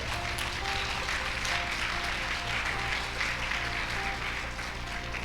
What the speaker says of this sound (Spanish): Vamos a aplaudir a Cristo.